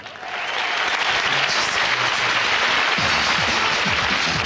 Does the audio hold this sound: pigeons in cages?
no